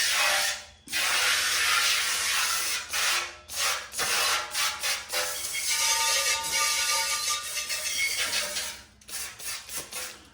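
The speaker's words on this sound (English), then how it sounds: "I'm going to spray with brake cleaner, or you can use acetone. So I'm going to spray the whole thing." Brake cleaner sprayed from an aerosol can onto the rubberized undercoating of a VW Bug, a loud steady hiss in long bursts broken by short pauses and a few clicks of the nozzle.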